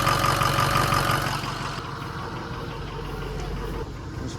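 A 2006 Ford 6.0 Powerstroke diesel engine runs at a steady idle after injector work, giving a continuous low rumble with a faint knock, close and loud throughout, with no voices.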